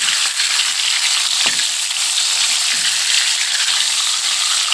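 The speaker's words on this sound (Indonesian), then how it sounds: "Selanjutnya kita goreng ikan asin." Salted fish fries in hot vegetable oil, giving a loud, steady, continuous sizzle with a dense crackle throughout and no voices.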